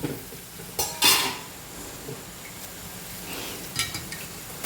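Pumpkin erissery curry is stirred in a pot, with a few short scraping clinks of a spoon against the metal, faint and spaced out, over a quiet background.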